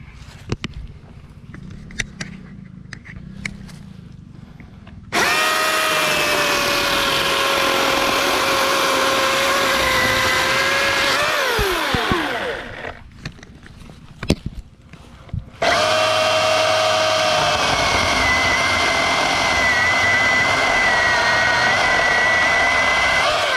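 Milwaukee M18 brushless battery chainsaw cutting wood: two long loud bursts of steady high electric whine with a pitch dip as the chain bites, separated by quieter pauses, no engine idle.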